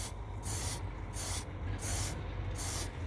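Chain cleaner sprayed onto a motorcycle chain in three steady hissing bursts with short gaps between them, close and fairly loud with no talking.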